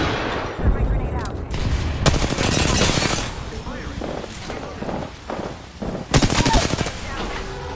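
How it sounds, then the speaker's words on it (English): Gunfire from the video game Apex Legends, with dense rapid bursts of automatic shots near the start and again near the end, loud and close over continuous game noise and a voice speaking. "Firing. Opening fire on the enemy."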